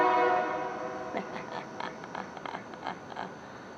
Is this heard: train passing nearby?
yes